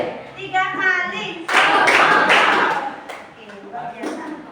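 Pupils in a classroom clap in rhythm, a short set of sharp claps after a teacher's spoken cue, with voices speaking before and between.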